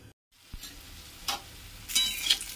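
Fish frying in a pan, a close, steady crackling sizzle that drops out briefly near the start and then swells with louder spattering bursts toward the end.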